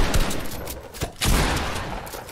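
Gunfire in the video game Fortnite: loud, close bursts of shots, a few separate cracks early on, then a longer sustained volley through the second half.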